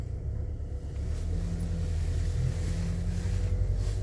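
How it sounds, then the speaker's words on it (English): A Ford Maverick pickup driving an off-road test track at a drive festival, with a steady, loud low engine rumble and road noise throughout and no talking. "we're going to go on an off-road track to show you what the vehicle can do"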